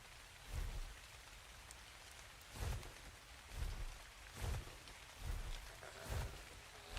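Steady rain falls in the ARK: Survival Evolved game world, set on The Island. The soft wash of drops is broken by several low rumbling swells at regular intervals, all quiet and distant.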